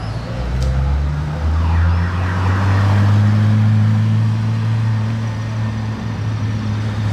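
A Ferrari F40 runs at night near the Monaco Grand Prix circuit, its deep engine drone holding steady and loud throughout, with pitch shifting slightly as it passes.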